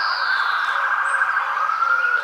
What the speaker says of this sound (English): if it wasn't for those sirens that you can hear and all the cars, it would be very peaceful